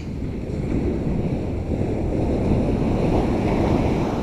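Waves washing on the shore during a lüfer fishing trip, a steady rushing surf mixed with heavy wind buffeting the microphone, continuous and fairly loud with no voices.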